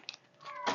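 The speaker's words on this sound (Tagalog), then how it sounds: "kanina napakaingay ng aking mga pusa" A short cat meow in a home kitchen where cheese is being grated for tuna carbonara, a brief, fairly close cry rising out of quiet background noise near the end.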